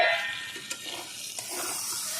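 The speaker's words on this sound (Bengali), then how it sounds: "এইভাবেই আমি ভেজে নেব বেগুন" Eggplant slices frying in a pan over a wood fire, giving a soft, steady sizzle with a couple of brief stirring clicks; no one speaks.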